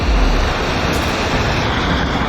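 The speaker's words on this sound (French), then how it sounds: "Une cascade de 2 mètres." A small waterfall about two meters high at the source of the Vis rushes loudly and steadily, a dense continuous roar of falling water with no talking.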